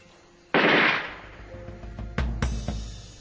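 Gunshot during the Algerian war, a single sharp, loud crack followed by a fading echo, then a few thuds and knocks that are softer and closer.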